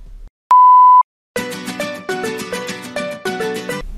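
A single electronic start beep, a steady tone about half a second long, sounds alone before rhythmic gymnastics music begins, bright and rhythmic with piano-like notes and a clear beat.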